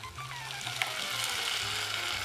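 A tomato mixture sizzles and fries in a pan on high heat, a steady crackling hiss with small spits and pops, close and alone.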